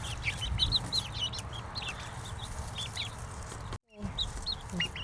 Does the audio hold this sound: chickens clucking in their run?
yes